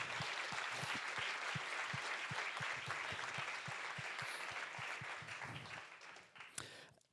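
Sustained applause from a room full of people at a tech meetup, with one rhythmic clapper standing out, fading toward the end.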